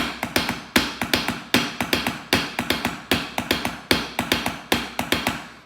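Hands tapping a 3-against-2 polyrhythm together, crisp close percussive taps in an even repeating cycle of clustered hits, each group starting with a stronger accent, played alone with no talking.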